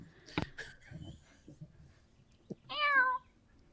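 A cat meows loudly and close by with one drawn-out, wavering call near the end, after a few soft thumps and faint rustling in a quiet room.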